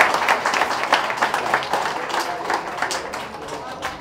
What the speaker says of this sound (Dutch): Mag ik voor hun applaus alsjeblieft?